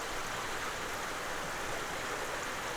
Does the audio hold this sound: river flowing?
yes